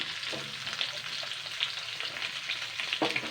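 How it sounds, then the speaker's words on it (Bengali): Sliced potatoes, bitter gourd, drumsticks, green banana and raw mango sizzle and fry steadily in a pan for a Bengali shukto with pangas fish, with occasional scraping of a stirring spoon and no talking. "এবার এটাকে 2 মিনিট মতো নাড়াচাড়া করে নেব"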